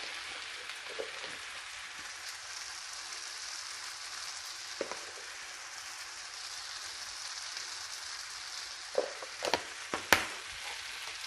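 Spices such as turmeric and black pepper sizzle steadily in a pan for Karimeen Pollichathu, a constant hiss with a few louder pops and crackles near the end.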